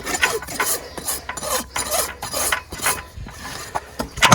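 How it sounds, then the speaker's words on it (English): A farrier's rasp files a horse's hoof down to the edge in steady, close, scraping back-and-forth strokes, loud and alone. "We're just going to rasp that down to the edge."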